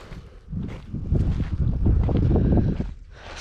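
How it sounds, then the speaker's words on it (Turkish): Wind gusts rush past in a broad, rumbling roar across a barley and wheat harvest field in rural Turkey, swelling midway and easing off near the end, with no talking. "Az çok bir rüzgar çıkıyor tekrar sonra yine."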